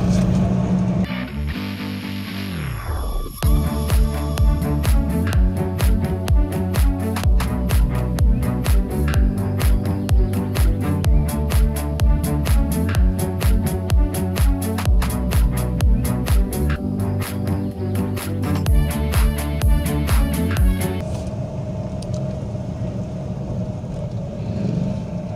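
A vehicle low on reserve petrol, its engine revving unevenly after a brief drop, a dense rhythmic throb that runs steadily then falls off to a quieter hum near the end, close and loud.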